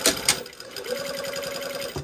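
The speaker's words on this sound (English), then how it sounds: "So now we're just going to sew on the facing" A sewing machine stitching a facing onto a boat neckline runs in a quick steady mechanical rhythm, close and clear, starting after a couple of sharp clicks and ending with a brief knock.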